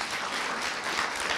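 An audience at an opening presentation of a craft event claps in a steady, dense wash of applause that holds at an even level throughout.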